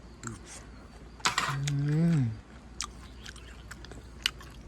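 Crisp, close crunching from a bite of stir-fried wild boar, with a spoken voice drawn out in the middle and a few scattered chews and clicks after it.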